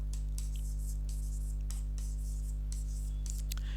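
Chalk scrapes across a classroom board as a sentence is written, in short scratchy strokes over a loud constant low electrical hum.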